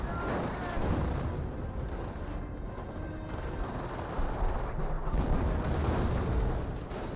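Battle noise from the Company of Heroes video game: MG42 machine gun bursts mixed with rifle fire and explosions roll continuously, dense and loud, with no voices over it.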